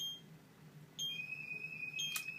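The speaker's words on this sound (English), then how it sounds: "The base station itself is alarming. That's an 85 decibel alarm." SimpliSafe home alarm base station going into full alarm indoors at about 85 decibels: a faint steady high beeping tone that begins partway through and holds, with a brief sharp burst near the end.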